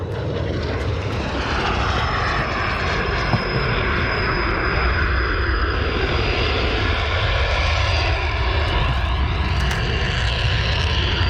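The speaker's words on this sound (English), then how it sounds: "Man, that plane is so loud." Roaring airplane engine in a shooter video game, loud and continuous with a droning propeller hum and a steady high whine across the whole stretch, no voices over it.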